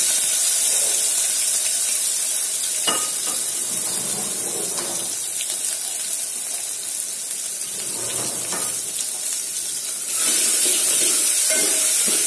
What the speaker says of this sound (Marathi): आलं लसूण व्यवस्थित आपण परतून घेऊ